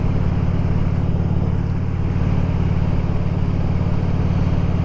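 A vehicle moves off for a ride, its engine a continuous, fairly loud low drone with a steady pulsing rhythm and no talk.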